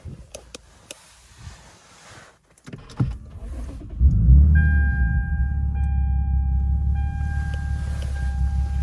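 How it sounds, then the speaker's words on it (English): 2009 Lexus IS350 engine cranks and catches after a few faint clicks and a brief whir, then settles into a steady, close, even idle with a low rumble and a faint high tone running over it. "Start the car."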